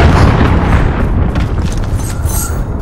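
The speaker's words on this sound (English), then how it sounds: "cruise missile away" A cruise missile strike in Call of Duty: Modern Warfare lands as a loud, close, sustained explosive boom, with a heavy rumbling roar and crackling debris that stays dense throughout before thinning slightly near the end.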